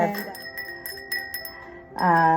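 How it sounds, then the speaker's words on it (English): Small bells ring with bright, sustained tones, a few light strikes overlapping, followed by a louder resonant chime at the end. "little bells"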